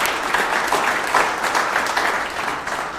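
A community foundation audience gives a round of applause, steady dense clapping at an even, fairly loud level from start to finish with no talking.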